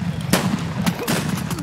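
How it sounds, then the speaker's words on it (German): Gunfire in the online shooter game Escape From Tarkov: a few sharp, loud shots spaced apart over a low ambient rumble, with faint game noise between bursts. "ich habe hier gerade Schüsse vom Old Man's oder wie das heißt gehört"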